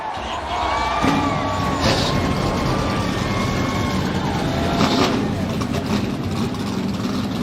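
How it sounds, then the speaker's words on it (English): NASCAR Craftsman Truck Series race trucks fire up at Darlington, a loud, steady engine roar with revs swelling and dipping, while a voice speaks over it. "Drivers, start your engines."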